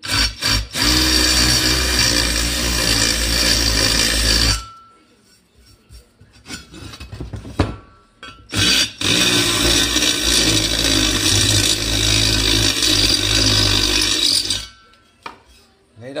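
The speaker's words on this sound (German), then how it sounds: "hier habe ich einen Bohrer zum Entgraten oder zum Ansenken." A loud, harsh grinding rasp of a drill bit deburring a metal part runs in two long bursts separated by a quieter pause with small clinks.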